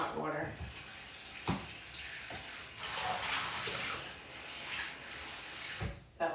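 Hot water runs steadily from a kitchen tap to soak a dirty dish at night, a continuous broadband rush with a few knocks and clunks of dishes, close and moderately loud.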